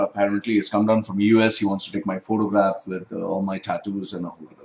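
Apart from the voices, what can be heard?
No everyday noises stand out.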